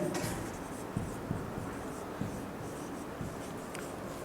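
A pen scratches out handwritten notes during a physics lecture, with soft steady strokes and a few light taps over a constant hiss, close by and with no talking.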